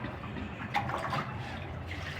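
Water runs and splashes continuously at close range as it is poured to wash out a container, a steady low trickle with soft bubbling.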